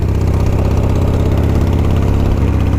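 The engine of a 29-year-old motorcycle runs at a steady idle, a loud, close, low rumbling throb that holds even throughout with no talking.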